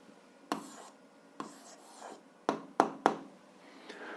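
A pen scratches and taps on paper in a handful of brief, uneven strokes, close and quiet, as a math answer is written out.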